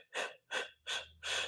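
Four quick, close breaths are drawn in during a Pilates class, evenly spaced sharp inhalations with short pauses between.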